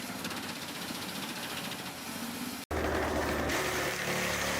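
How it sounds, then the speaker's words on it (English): A tow-driven wood chipper runs with a dense, steady mechanical roar, cut by a brief drop before picking up again, loud and near with no voices. "The chipper follows."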